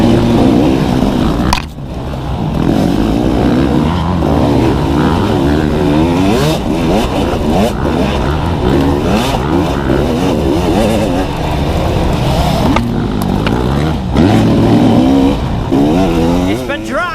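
Off-road motorcycles racing in a three-hour GNCC pro event at Tomahawk, dusty fields and trees, engines revving and whining continuously up close, rising and falling as bikes pass, with a voice talking over them.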